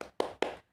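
Three quick, crisp hand claps in an even rhythm from a single person, close and clear, with silence afterward.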